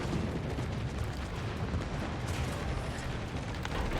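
Naval gunfire and explosions in a warship battle video game, a dense continuous roar of booms and blasts at steady high loudness with no clear gaps and no talk.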